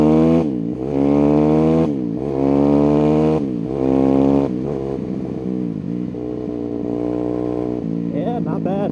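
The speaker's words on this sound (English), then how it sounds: "But yeah, engine sounds good." A rebuilt Yamaha YZ250F dirt bike engine revs hard in repeated rising, falling bursts close up, its pitch climbing through each blip before settling into rougher running at the end.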